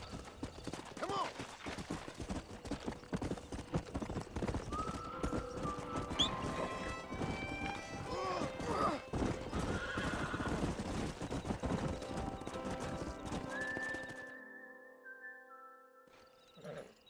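In the video game Red Dead Redemption, hooves clip-clop along as a horse neighs and whinnies several times, with a whistle in the mix, before everything cuts off abruptly near the end.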